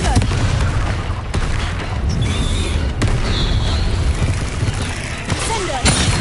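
A Confringo fire spell explodes in the Hogwarts Legacy game, with dense booming blasts and crackling bursts running continuously over a loud, busy battle mix.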